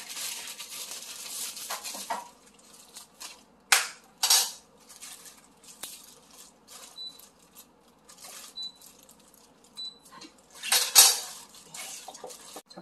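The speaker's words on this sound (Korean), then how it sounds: "접시에 담아볼게요" Dishes and utensils clatter and clink in a few sharp bursts as seasoned Korean cucumber salad is plated, with quieter scraping and shuffling between them, close by and with no talking.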